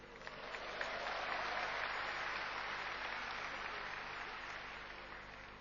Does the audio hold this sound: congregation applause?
yes